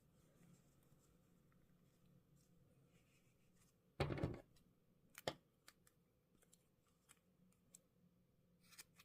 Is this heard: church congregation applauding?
no